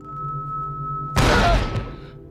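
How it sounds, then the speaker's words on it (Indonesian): Gunfire erupts in an action film shootout, a sudden loud blast of noise cutting in after a steady humming tone and tailing off over about a second. "Kemudian Richie CS langsung menyerang Aaron dan para anak buahnya hingga terjadi aksi tembak-tembakan."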